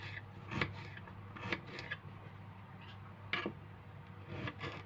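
A knife cuts a large beetroot into small pieces, giving a handful of soft, irregular chopping and scraping strikes close by and quiet, with no talk.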